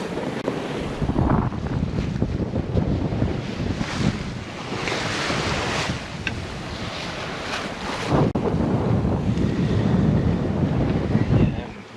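Steady wind roars across a sailboat running close hauled at sea with a single reef in the main and full jib, mixed with rushing waves and microphone buffeting, loud and continuous throughout with no talk.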